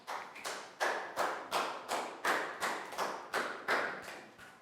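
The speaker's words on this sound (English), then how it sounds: "big round of applause for Bang Pon" A few classmates clap in a steady run of about eleven sharp, evenly spaced hand claps for a student in a primary school classroom, close and clear with no talking over them.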